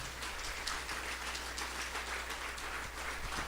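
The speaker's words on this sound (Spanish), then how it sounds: "Le das un fuerte aplauso a nuestro Dios." Congregation applauding in a church service, a steady, even wash of many hands clapping at a distance, soft and continuous with a low hum underneath and no voices standing out.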